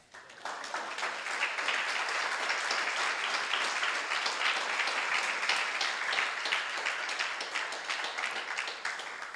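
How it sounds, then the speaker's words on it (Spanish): A church congregation gives sustained applause, a moderately soft wash of many hands clapping that rises quickly and holds evenly for several seconds with no talking over it. "¿Qué les parece si le damos un aplauso al Señor?"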